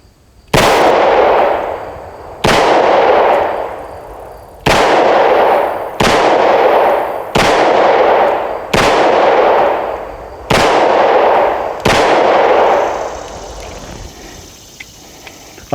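Ten-millimeter pistol shots from a Hi Point JXP10 or Colt Delta Elite at an outdoor range: eight sharp, loud reports fired at a steady pace of roughly one to two seconds apart, each ringing out with a short echoing decay.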